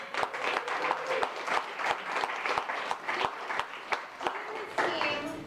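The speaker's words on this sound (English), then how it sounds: "Let's give him a round of applause." A launch-party crowd in Chicago claps for a sponsor, dense applause with distinct close claps punctuating it, fairly loud and continuous with faint voices mixed in.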